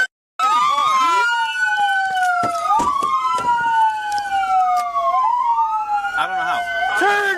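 Police car sirens wail loudly and close during a high-speed police pursuit, several overlapping tones sweeping up and down continuously, with brief horn-like blasts near the end.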